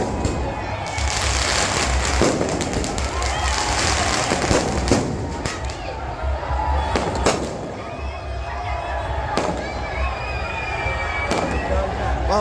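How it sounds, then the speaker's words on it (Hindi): Fireworks set off in a city street to celebrate a Team India cricket win, a dense run of crackling bursts and sharp pops over a steady crowd murmur, loud and continuous for the whole stretch. "वहीं आतिशबाजी की आवाज से पूरा शहर गूंज उठा।"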